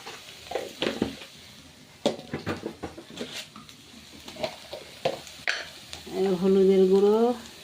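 A spoon scrapes and stirs sattu sizzling with chili powder in a wok, with a run of irregular close scraping strokes and a steady fry, followed by a brief whining tonal sound near the end.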